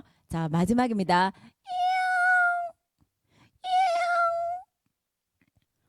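A preacher at a children's church service imitates a cat with his voice, giving two long, drawn-out meows after a few spoken words, each clear and close with silence between.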